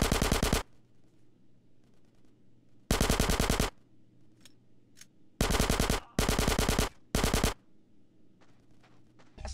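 Automatic weapons fire bursts out in Grand Theft Auto San Andreas during a motel shootout: five loud, rapid rattling volleys separated by quieter gaps with a low hum, plus a few faint distant shots between them.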